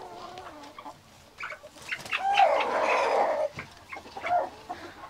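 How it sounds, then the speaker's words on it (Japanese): A rooster crows at midday among other chickens, sounding one loud, drawn-out crow in the middle, with softer clucks and fowl calls before and after. "一日の中で結構いろんなタイミングでコケコッコを言います。"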